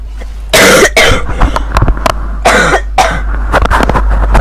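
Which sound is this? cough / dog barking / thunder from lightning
cough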